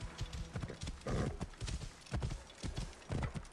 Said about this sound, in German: Schneller, mein Pferd, schneller!